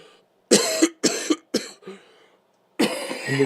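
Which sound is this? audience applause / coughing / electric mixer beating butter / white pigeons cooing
coughing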